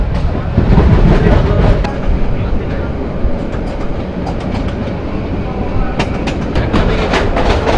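A Sagorika Express train runs near Chitoshi Road station, a steady loud rumble of wheels and carriages with rattling clatter throughout and sharper clacks toward the end.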